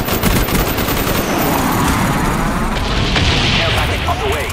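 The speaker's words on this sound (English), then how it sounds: "Bomb strike coming in." Bomb strike explosions in Call of Duty: Black Ops on a jungle map, a dense continuous barrage of loud booms and rattling gunfire with no break, with a voice speaking under the din.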